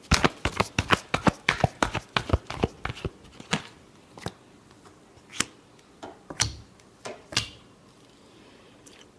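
Tarot cards being shuffled by hand: a rapid burst of crisp riffling snaps that slows into a few sparse, separate slaps and flicks, close and fairly quiet, with no voice.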